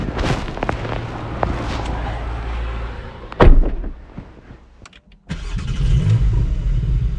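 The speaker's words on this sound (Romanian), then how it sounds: "Așa se aude când, când pornești uh, mașina." A 2020 Porsche 718 Cayman GT4 engine cranking and catching with a sharp burst, settling briefly, then rumbling into a loud, steady idle.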